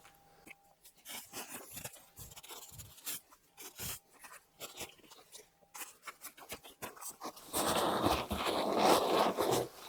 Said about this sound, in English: And then we can top it off with more crinkle paper.